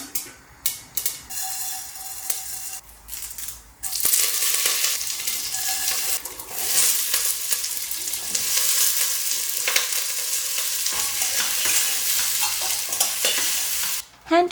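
Mustard seeds, urad dal and curry leaves hitting a teaspoon of hot oil in a pressure cooker, a loud crackling sizzle that swells after a few quieter opening seconds and continues steadily, with occasional stirring, no talking.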